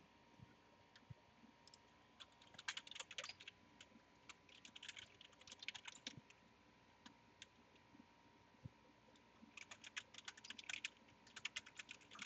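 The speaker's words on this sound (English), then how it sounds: "I was just typing it out real quick." Quick typing on a computer keyboard during a tabletop role-playing session, in irregular bursts of soft clicks that are fairly close but quiet, with a steady faint hum underneath and no talk.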